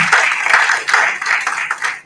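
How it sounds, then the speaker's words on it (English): An audience at a national HIV/STI research dialogue session applauds its moderator, a dense, loud burst of hand clapping heard close and alone for about two seconds. "Let's clap for our moderator for this session."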